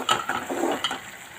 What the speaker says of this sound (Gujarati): પછી હલાવી દઈશું।